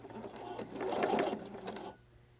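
Sewing machine stitching close to the edge of a burlap planter seam, a steady whirring run that swells in the middle and stops near the end, heard alone at close range.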